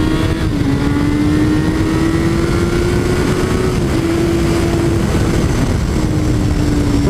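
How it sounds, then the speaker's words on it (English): A 2017 Honda CBR1000RR sport motorcycle being ridden, its engine holding a steady, loud drone that climbs slowly in pitch, wrapped in heavy wind rush, with no talking. "I think I'm just gonna ride it for a little bit without talking, just to kind of get a feel of the bike"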